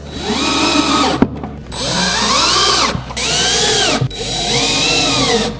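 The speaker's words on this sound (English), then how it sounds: "I like to screw it first into the face frame" Screw gun driving a screw into a wooden cabinet face frame, three loud whirring bursts with rising and falling motor pitch, separated by brief stops, very close.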